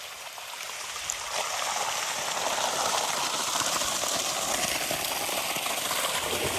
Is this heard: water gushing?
yes